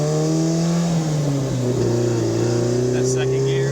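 A track-ready 1976 Alfa Romeo GTAm with carburettors pulls hard in second gear, its engine note rising and falling steadily, loud and close from inside the car.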